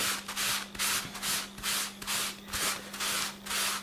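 Screwed-up kitchen roll rubbing dried masking fluid off watercolour paper, a close, rhythmic scratchy rasp repeating about twice a second in steady back-and-forth strokes, with a faint constant hum beneath.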